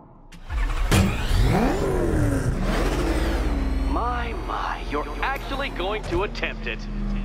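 Life-sized toy car in Batman: Arkham Knight revving up and driving off, a loud engine roar rising and sweeping in pitch, with speech over it.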